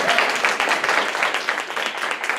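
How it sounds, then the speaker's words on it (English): A round of applause from an audience at a health and protein seminar. It is loud, continuous and close, with dense overlapping claps and no break in its short span. "I want to give a round of applause"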